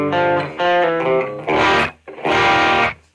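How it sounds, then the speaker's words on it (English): An electric guitar played with overdrive: a few held chords and notes, gritty and sustained, with brief pauses between strums. "Turn the overdrive on."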